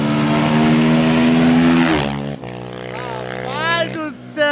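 A Honda CRF 450 motorcycle screams at a drag race launch, its engine held at a loud sustained high rev before dropping and climbing again in sharp upshifting sweeps, with crowd voices mixed underneath.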